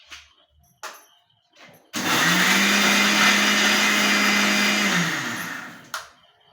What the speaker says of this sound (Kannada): ನೋಡಿ ನಾನೆಲ್ಲನೂ ಮಿಕ್ಸಿಗೆ ಹಾಕ್ಕೊತೀನಿ.